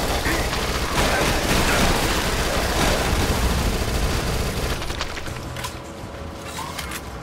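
SMG gunfire in the zombie shooter Dead Nation: dense, rapid automatic bursts blaze loud and continuous for about five seconds, then thin out and fade beneath a lingering wash of game noise.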